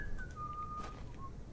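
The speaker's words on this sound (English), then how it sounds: "Oh, there's the merry whistling." A merry whistled tune in the video game The Excavation of Hob's Barrow, a thin, clear melody with a long held note sliding down, soft over a low background hum.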